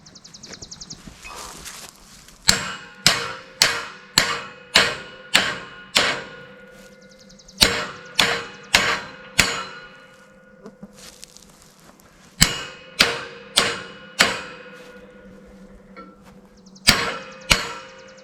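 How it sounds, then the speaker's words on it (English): Sharp metallic hammer blows beat bent, soft metal siding straight, landing in quick bursts of six to eight strikes separated by short pauses, loud and close with ringing decay. "all I do is I beat it with the hammer and straighten it back out"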